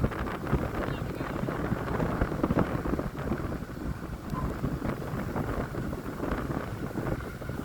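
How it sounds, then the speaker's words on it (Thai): Strong wind gusting steadily outdoors, a continuous loud broadband rush with no pauses, heavy and close to the microphone throughout. "เสียงลมเอาจังเนาะ"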